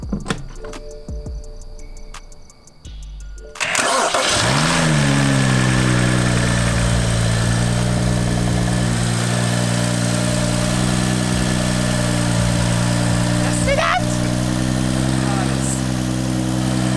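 A BMW 335i with the N55 engine cranks and catches after a starter replacement, then settles into a loud, steady idle. The idle runs continuously and close up for most of the clip.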